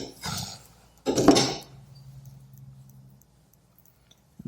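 A knife clinks and scrapes against a plate in two quick bursts while butter is spread on warm, crumbly rice bread; afterwards only a low, quiet room hum remains.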